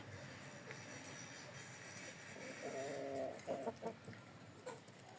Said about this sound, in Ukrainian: Це ось петушок. Курочка.